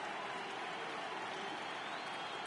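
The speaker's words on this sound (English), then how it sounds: "The crowd is ready to erupt as their guys get set to take the field" A video game stadium crowd in MLB The Show 18 before a playoff game between the Yankees and Angels, a steady dense roar of cheering and applause, loud and continuous without breaks.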